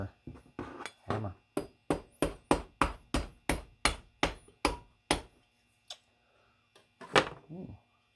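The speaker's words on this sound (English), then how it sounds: "Hammer." Hammer blows on parts of a Waring Futura 900 blender being repaired for a failed motor fan, in a steady run of about fifteen sharp, close strikes, then a few scattered knocks and a short louder clatter.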